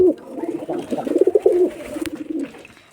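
A pair of Giribaz pigeons coo close by, one rolling, pulsing call that swells and fades over a few seconds, clear and fairly loud.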